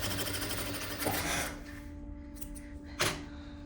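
A sewing machine stitches the seams of a vest, its motor whirring steadily and close for the first second and a half before slowing to a quieter hum, with a soft knock near the three-second mark.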